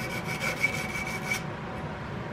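Flat file rasping across a muzzleloader trigger guard, about six quick back-and-forth strokes close up before the filing stops and only faint room noise remains.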